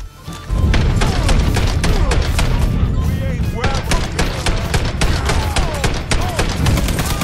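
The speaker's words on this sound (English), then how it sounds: "taking cover! Shit! Grenade!" Mafia 3 video game combat erupts in sustained rapid gunfire with heavy thumps and a grenade blast, loud and dense after a brief quieter start, with shouted voices mixed in.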